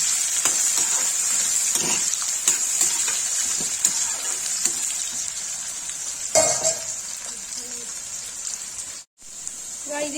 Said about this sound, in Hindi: इसमें जीरा डालेंगे, जैसे प्याज डाल देंगे, इसको थोड़ी देर भूनेंगे